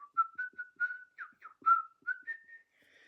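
A storyteller whistles a jaunty tune in imitation of a man whistling as he walks, a string of short clear notes and slides, close and fairly soft, with no talking.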